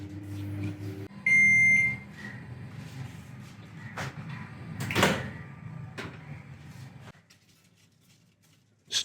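A Samsung microwave oven cooking matar paneer gives a sustained electronic beep, then door clunks and a low running hum, all close and moderately quiet.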